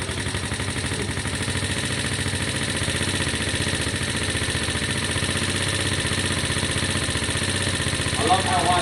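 A Lexmoto Valiant motorcycle engine idles steadily and close by with an even, throbbing rumble for the whole stretch, a faint voice briefly rising under it near the end.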